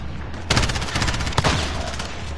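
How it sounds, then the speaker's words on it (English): Shotgun blasts in the Modern Warfare game, loud and close: a sharp burst of rapid gunfire, then a second distinct blast with a short echoing tail, heard alone without talk. "He's using a fucking fire shotgun."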